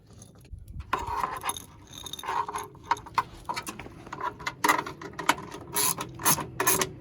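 A ratchet clicks in quick, uneven bursts while tightening a nut on a fog light mount on a 2004 Chevrolet Silverado. The clicks are close and sharp, with brief pauses between strokes.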